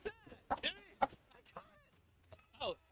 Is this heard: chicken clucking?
yes